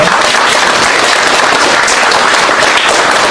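Audience applause welcoming a speaker at the founding ceremony of a citizens' movement, a steady broadband wash of clapping filling the whole stretch at strong level.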